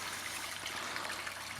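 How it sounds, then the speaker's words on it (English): Waterfall in an ecosystem koi pond with stream lighting, pouring steadily into the water, a continuous broadband splashing rush that stays even and fairly close throughout, with no voices. "So we'll just have the waterfall on."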